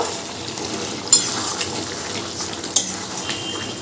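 A spoon scrapes and stirs through chicken curry in a pot, soft wet shuffling with two sharp metallic clinks as the lid is handled, close and moderately loud with no talking.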